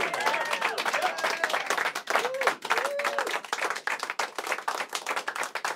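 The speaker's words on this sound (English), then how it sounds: "Ladies and gentlemen, big round of applause." TV show studio audience applauding to welcome a singer back on stage: brisk clapping from a crowd, with a few whoops and faint melodic tones near the start, slowly thinning toward the end.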